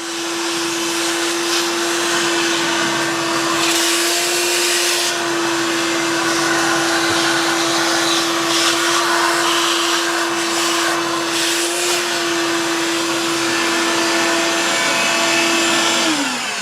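A vacuum cleaner runs steadily and loudly throughout, its motor whine holding a constant pitch before winding down slightly at the end.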